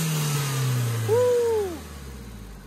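A turbocharged SR20DET engine in a Nissan D21 truck, fitted with a T28 turbo and a blow-off valve, revs up and falls back over a steady engine rumble, with a brief shout of excitement.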